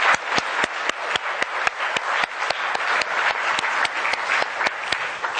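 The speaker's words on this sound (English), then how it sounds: "Please give them a big round of applause before we start." An audience claps for a group of students, giving steady, even applause with crisp individual hand claps close by, sustained throughout without pause.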